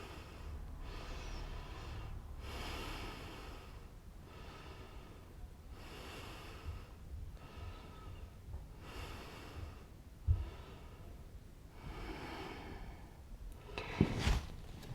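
Slow, audible breathing of a person holding a sphinx pose during a shoulder-focused yoga session, long airy inhales and exhales repeating in a steady rhythm about every two seconds, close and soft, with a couple of faint bumps near the end.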